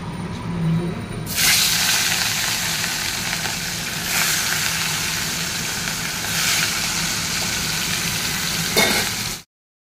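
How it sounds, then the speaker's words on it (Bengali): Katla fish frying in a pan, a steady broadband sizzle with scraping stir sounds and a few louder pan clatters, continuous and close with no talk. "এই যে মাছ ভাজা হয়ে গেছে"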